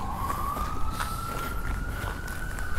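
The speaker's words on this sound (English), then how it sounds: "Ignore all the sirens." An emergency vehicle siren wails in town as a single long, slowly rising tone over a rumble of traffic and street noise, fairly loud and continuous.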